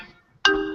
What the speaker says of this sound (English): the buzzer just went off